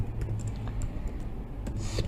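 Light, scattered clicks of typing on a computer keyboard sit over a steady low background hum, close and fairly quiet, with no talk.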